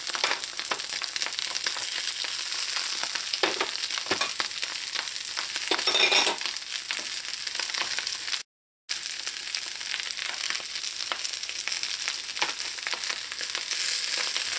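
Vegetables stir-fried with egg in a hot pan give a steady, close sizzle and frying hiss throughout, broken by scraping and tossing sounds, with a brief gap partway through.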